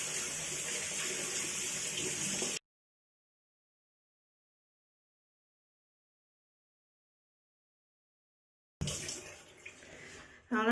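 Tap water running steadily into a sink while a makeup-removal wipe is rinsed, a soft continuous splash that stops abruptly, then returns briefly after a long silence.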